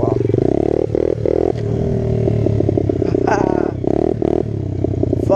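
A Yamaha motorcycle engine revs and drops repeatedly as the rider pulls wheelies, loud and close, with clattering and scraping between throttle bursts.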